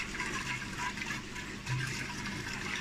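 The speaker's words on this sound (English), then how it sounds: "and I'll just slosh it about" Clean water sloshed around inside a container to rinse out alcohol while growing phytoplankton: a soft, continuous swishing and gurgling, fairly faint and close, with no voices.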